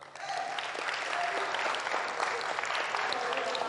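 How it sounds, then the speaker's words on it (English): A seminar audience claps together in sustained, even applause that starts abruptly and holds steady for a few seconds, with a voice or two faintly underneath. "Clap for somebody."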